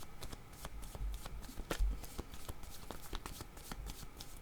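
A deck of tarot cards being shuffled by hand, repeated riffling flicks and soft slaps at an uneven rhythm, close and fairly quiet, with no talking.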